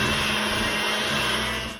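An electric mixer whirs steadily through pink lemonade cookie dough made with egg, vanilla and lemon extract, a constant close motor hum that eases off at the very end.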